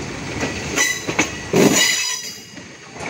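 Tirupati-Puri Express rolling through Khurda Road junction, heard on board with steady rumbling wheel and carriage noise, a few clanks and a louder surge midway before it eases off.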